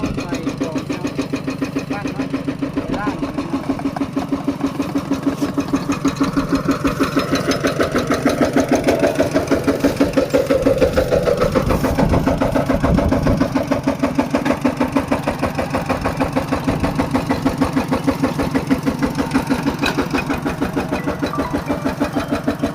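Farm tractor engine cranked up and settling into a steady mid-pitched chugging idle, revving briefly partway through, with a person talking over it.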